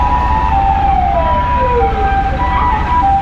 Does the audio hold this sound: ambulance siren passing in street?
yes